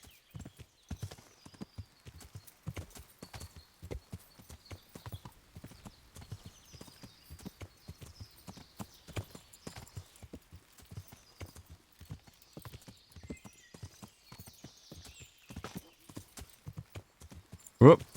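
Horse hooves clip-clop steadily at a walking pace across open ground in the medieval game Kingdom Come: Deliverance, a long run of evenly spaced, close footfalls with a brief louder burst at the end.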